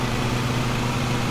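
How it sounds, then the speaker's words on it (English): Lawn mower engine in Lawn Mowing Simulator running under overload, a steady, loud, droning hum that holds constant with no pause. "keep overloading the engine like that"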